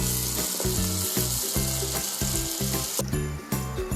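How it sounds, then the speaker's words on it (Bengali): Tomato paste frying in oil, a continuous loud sizzle with rhythmic scraping stir strokes about twice a second, close up, with no voices. "টমেটো পেস্ট দিয়ে ভালো করে ভাজতে হবে, যাতে টমেটোর কাঁচা গন্ধটা চলে যায়।"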